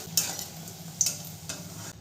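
Lentil bori frying in mustard oil, stirred with a spoon that clinks and scrapes against the pan about three times over a faint sizzle, close and quiet, with no voices.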